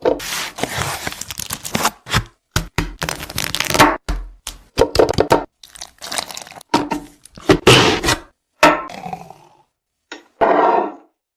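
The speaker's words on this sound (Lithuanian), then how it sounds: "Sutrinkite Oreo ir šokoladą." Oreo cookies and chocolate being crushed for a chocolate chip milkshake, a run of loud, close crackling and chopping bursts in irregular rhythm, dense at first and then spaced into separate crunches with brief silences.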